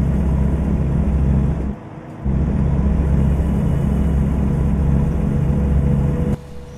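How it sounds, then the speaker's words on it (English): Trucks idle nearby with a steady low diesel rumble that drops out briefly twice before resuming, forming a constant close background drone. "This noise of the trucks really bugging me."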